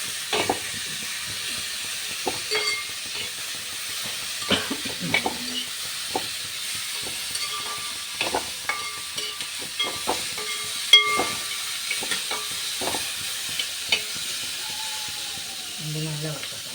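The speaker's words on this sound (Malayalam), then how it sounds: "നല്ല വറുക്കണം." Food frying in a pan while being stirred, with scattered scraping and clinking of the utensil against the pan over a low sizzle, and intermittent voices and background noises around it.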